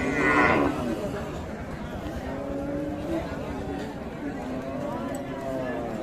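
A cow at a cattle market, moo-like lowing calls over a busy outdoor crowd, with people talking close by throughout.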